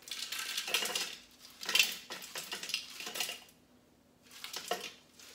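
Ice cubes, 120 grams, tipped into a Thermomix bowl over lime pieces and mint leaves for a virgin mojito, rattling and clattering in several loud bursts separated by short pauses.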